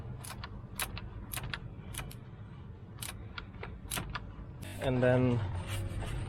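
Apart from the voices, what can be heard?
spanner being used during car oil change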